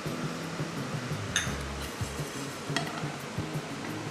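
Coriander, cumin and fennel seeds dry-roasting in a pan, a soft scratchy rustle of stirring with a few light clinks of utensil against metal, quiet and close, with no one talking.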